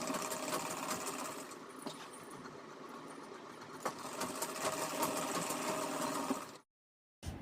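A sewing machine hums steadily and close while stitching a halter neck maxi dress, with small handling knocks along the way, then cuts off abruptly near the end.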